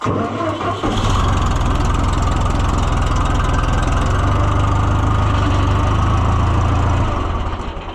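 An old tractor engine, started in cold weather, cranks briefly and fires up, then settles into a loud, steady, close idle with a pulsing low throb that holds for several seconds before easing slightly at the end.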